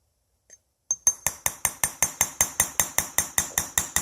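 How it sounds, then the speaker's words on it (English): A small hammer taps metal gently while tracing a vessel lining, a steady, even rhythm of bright ringing strikes, about four per second, close and clear after a brief pause. "I'm using a pretty small hammer. This initial tracing is going to be pretty gentle."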